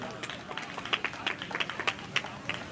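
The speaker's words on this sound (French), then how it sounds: "Applaudissez pour Kanga la Machine de Guerre" Crowd at a wrestling catch show in Kinshasa clapping and cheering for a fighter, scattered handclaps popping over steady crowd murmur and a voice talking, moderately distant and fairly quiet.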